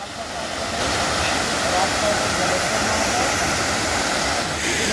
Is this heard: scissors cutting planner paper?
no